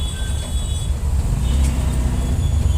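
Heavy city traffic beside metro construction, a dense, loud, continuous engine rumble of large vehicles passing close by, with no voices.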